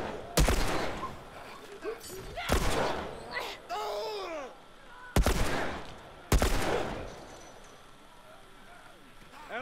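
Bursts of gunfire in The Last of Us, with several sharp shots spaced seconds apart and sweeping game effects between them. A player talks and reacts over parts of the sequence.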